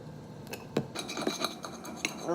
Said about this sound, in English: slice these up